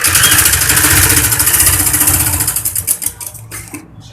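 Sewing machine stitching along the cut neckline of a child's lined kurti, a fast steady motor whir that runs continuously, then slows into distinct stuttering stitches before stopping.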